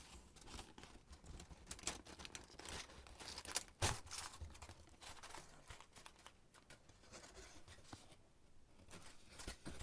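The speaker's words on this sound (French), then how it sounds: "Du papier aluminium." Crinkly foil being crumpled and handled close to the microphone, a steady crackling texture with a few sharper rustles, fairly quiet overall.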